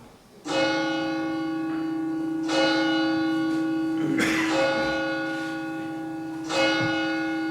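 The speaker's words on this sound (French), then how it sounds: "Écoutez, les cloches." Church bells toll at midnight, loud and sustained, with a new stroke every two seconds or so over a long ringing hum. A little clatter is heard between strokes.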